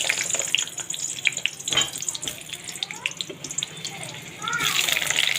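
Potatoes frying in hot oil in a home kitchen while a meat dish is cooked, a steady broadband sizzle running throughout, close and moderately loud, with a brief surge of bubbling near the end.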